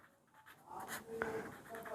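Chalk or marker writing a math formula on a classroom board during a Hindi-language geometry lesson, producing soft scratchy strokes with one sharper tap partway through, close and fairly quiet.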